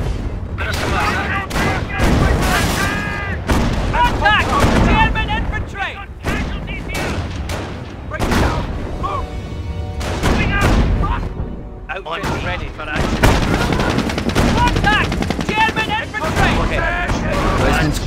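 Battle din in the video game Company of Heroes, with repeated gunshots, machine-gun bursts and booming artillery blasts, loud and close, mixed with shouted radio-style voice lines.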